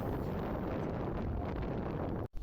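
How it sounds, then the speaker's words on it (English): Strong wind buffets the microphone on the open fens while a narrowboat is moved, a loud continuous roaring rumble that briefly cuts out near the end. "having to fight this wind now"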